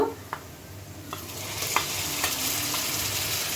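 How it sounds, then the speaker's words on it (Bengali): Ginger garlic paste sizzles steadily as it hits browned onions frying in a pan for a peas chicken curry, with a few soft stirring scrapes over the constant hiss. "এবার আমি এর মধ্যে আদা রসুনের পেস্টটা দিয়ে দেব"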